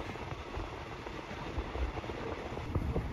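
Aboard a train to Kanchanaburi, Thailand, a steady, fairly quiet rumble of the carriage rolls on with soft rhythmic rail clatter and no speech.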